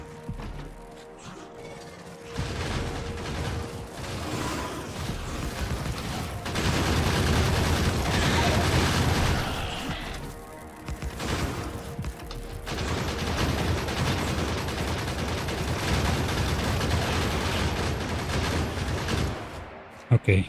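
In a video game, broken turrets open fire in bursts of rapid mechanical gunfire over a dense, steady background, with short pauses between the volleys.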